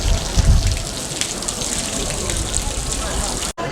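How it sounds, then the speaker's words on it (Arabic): Water pours from a stone fountain onto stone marbles at its base, a loud, steady, close rushing and splashing that continues without a break. "حلوة هاي نافورة ام الوردة، بس باعوا المي اللي دا ينزل بالقاع"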